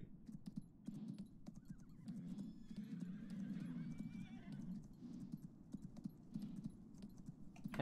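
Horse hooves clip-clop steadily in Landwirtschafts-Simulator 19 (Farming Simulator 19) on the Felsbrunn map, with a whinny partway through and faint clicking in the background.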